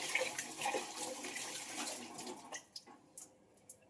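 Tap water runs steadily as hands are washed under a kitchen faucet, a continuous splashing hiss that breaks into a few short splashes and drips near the end.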